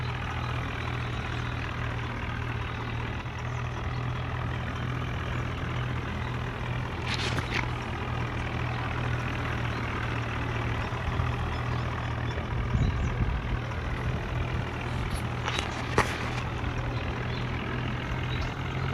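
A tractor hauling a fully loaded trolley slowly downhill with worn, failing brakes, its heavy engine droning steadily and close throughout, with a few faint knocks and scrapes over the low rumble.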